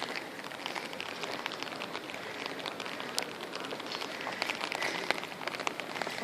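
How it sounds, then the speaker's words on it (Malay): Rain falls steadily on a town square in Nancy, France, an even hiss of drops patting on hard surfaces with occasional sharper splashes, moderately quiet and without voices. "c'est dommage qu'il pleut comme ça"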